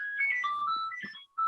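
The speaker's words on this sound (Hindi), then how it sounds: "ये नोकिया की रिंगटोन है।" A Nokia phone ringtone plays its short, clear electronic melody of bright tones, loud and close, with no voices over it.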